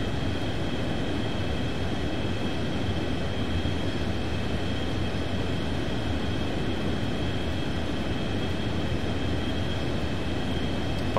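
Steady, broadband engine roar and rushing air of a Boeing 727 airliner in X-Plane 11 flight simulation, constant and unbroken throughout, with a faint high whine riding over the low drone.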